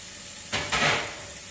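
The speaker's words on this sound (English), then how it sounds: "Just breaking up these little things so it's a nice fine mince." Beef mince sizzles in a hot pan as it is broken up into fine crumbles, with a short surge of loud hissing midway before it settles back to a steady background sizzle.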